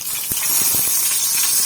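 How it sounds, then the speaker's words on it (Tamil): Onions dropped into hot oil with mustard seeds and urad dal, giving a bright, dense hiss of sizzling with a few soft thumps and crackles close by. "இப்போ நம்ம வெங்காயத்தை போட்டுக்கலாம்."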